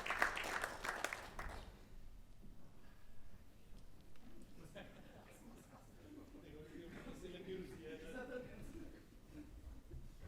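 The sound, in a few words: audience applause at a theatre inauguration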